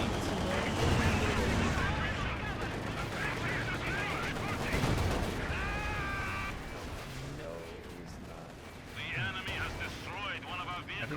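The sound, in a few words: gunfire and artillery in video game Company of Heroes 2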